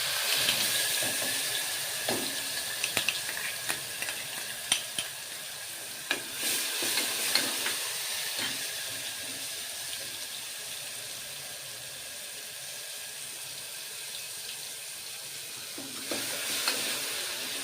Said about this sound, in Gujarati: તો આપણું તેલ ગરમ થઈ ગયું છે. સૌપ્રથમ આપણે લસણની ચટણી એડ કરીશું.